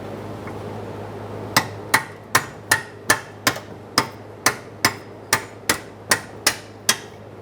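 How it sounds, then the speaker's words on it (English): Fourteen sharp metallic hammer strikes ring out in a steady, even rhythm, each a crisp close clang on a punch driving out a control arm bolt on a 1992-1996 Toyota Camry, over a low background hum. "Use a hammer and punch if necessary."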